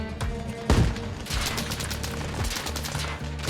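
Automatic rifle fire crackles through a firefight in Arma Reforger, with rapid bursts and a heavy close shot near the start, then continuous staccato volleys at moderate distance.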